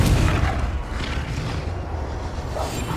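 A booming blast from the Confringo spell in Hogwarts Legacy, a muffled low rumble with creaking, mechanical texture that rolls on for a few seconds at moderate loudness, with no talk.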